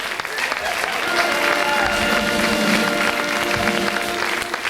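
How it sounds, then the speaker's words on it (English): An audience at a 1997 high school spring musical gives a round of applause, dense steady clapping with some crowd noise that carries through the whole stretch. "Give her a round of applause."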